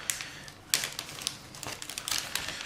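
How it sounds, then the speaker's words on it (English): Thin plastic bag crinkling and rustling while clear plastic model kit parts for a P-51 are handled, a close run of irregular crackles and small clicks with no talk. "Can't get them into the plastic bag."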